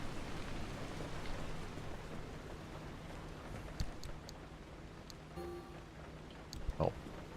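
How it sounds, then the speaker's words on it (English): Steady rain hiss in an open-world survival driving game, a dense, even wash of noise with a few faint drips and knocks, continuous and moderately quiet. "just listening to that rain like that."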